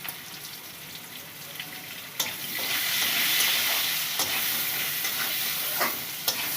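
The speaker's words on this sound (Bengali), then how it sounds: "দুটো আলু ভেজে" Potatoes fry in hot oil in a pan, giving a continuous bright sizzle that rises as they are stirred, with occasional scraping knocks from the spoon.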